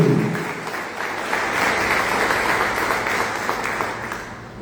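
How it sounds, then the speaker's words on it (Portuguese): A church congregation claps and applauds together, a sustained burst of dense, loud clapping that swells briefly and then tapers slightly toward the end, with faint voices mixed in. "Você pode aplaudir o Senhor pela sua palavra?"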